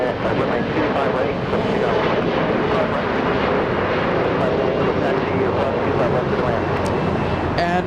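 An airplane at Los Angeles International Airport gives a loud, steady jet roar that fills the whole stretch without pause, while voices talk over it.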